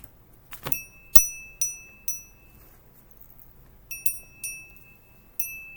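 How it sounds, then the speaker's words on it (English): A small metal bell is struck again and again in a quiet room, with bright ringing tones that hang and decay between hits, in two separate bursts of strikes. "so I have to use a bell to clear last's energy, last's reading"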